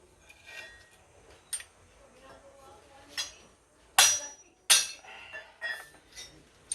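Metal hammer strikes knock an old bearing off an AC compressor pulley, two sharp ringing clanks standing out among lighter taps and clinks, close by, with a person talking in the background.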